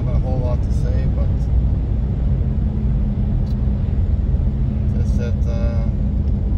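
A 1993 Chevrolet Safari van drives on the road, its interior filled with a loud, steady low rumble of engine and road noise, with brief clicks and rattles over it, and a voice talks intermittently.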